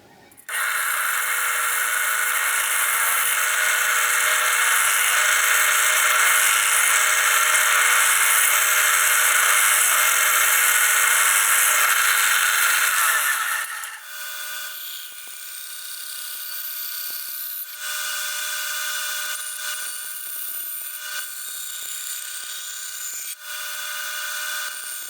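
A power tool cuts a 34mm hole in a workpiece for a lathe indexing jig. A loud, steady high whine runs for about thirteen seconds, then drops to a quieter grinding with scattered scrapes and knocks.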